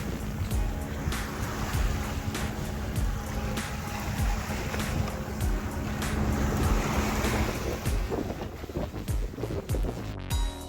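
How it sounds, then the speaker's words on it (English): A sailing boat under way at sea along the Sicilian coast at sunset: continuous wind rush and splashing water against the hull, loud and close, with no voices. "Sailing into the sunset along the Sicilian coast."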